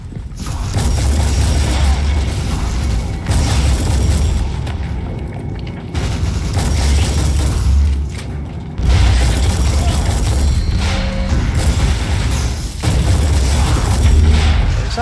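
Heavy shotgun blasts boom repeatedly in Warhammer 40K Inquisitor combat, loud and dense, several bursts separated by brief lulls amid mechanical clatter.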